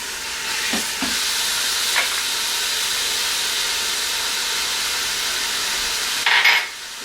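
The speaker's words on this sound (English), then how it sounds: "I'm going to just cook my meat with the onions in there because I want all that flavor. So I'm going to sear my meat." Seasoned meat searing with onions in an Instant Pot makes a steady close hiss and sizzle throughout, with a few brief scrapes or clinks near the start and a louder spatter burst near the end, no talk.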